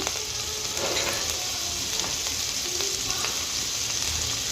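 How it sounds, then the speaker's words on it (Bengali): Spice masala sizzles and fries steadily in a hot pan while being sautéed for a rohu fish curry, with occasional scrapes of stirring over a continuous crackling hiss and no talk. "ভালো করে মশলাটাকে কষিয়ে নিয়ে"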